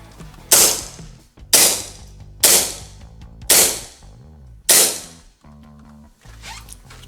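Five sharp, loud gel-ball shots from a WE Tech Hi-Capa mini airsoft pistol, fired singly at a steady pace of about one per second, each a crisp crack with a quick decay, followed by quieter handling noise.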